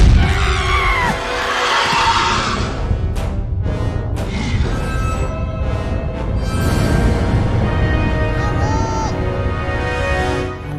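Loud, sustained screaming and yelling fill a chaotic Meet the Robinsons video game cutscene, with bangs and crashing noise throughout and voices shouting over the din.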